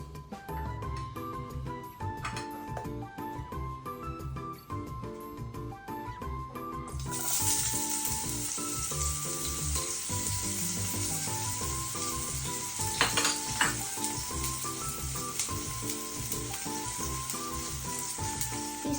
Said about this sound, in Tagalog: maglagay ng mantika sa kawali. Igisa ng sibuyas at bawang.